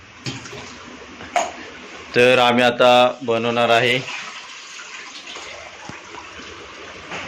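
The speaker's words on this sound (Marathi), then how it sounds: "आणि आमच्या बेसिन मधलं पाणी बघा ते आता गलास ठेवलं त्यामुळे पाणी जमाजलं आता ही जाते पाणी बघा" Pooled water drains from a household sink basin once a glass blocking it is moved, a steady low gurgling wash heard close by, with a person briefly talking over it.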